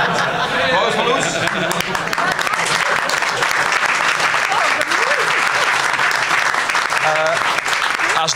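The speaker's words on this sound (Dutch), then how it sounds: "Applaus voor Loes." Audience applause fills a Prinsjesdag gathering in The Hague, sustained and loud for the whole stretch, with crowd chatter and voices mixed underneath.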